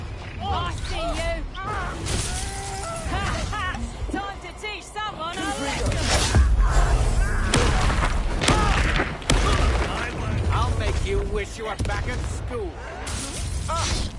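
Explosive blasts from the Confringo spell burst through a hectic Hogwarts Legacy duel, with crashes, clatter and shield effects layered densely together. Spoken voices run underneath throughout.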